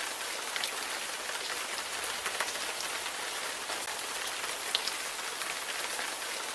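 Steady rain in the video game Gemini Rue pours down continuously, a dense hiss of drops on surfaces with occasional louder splashes, no voices.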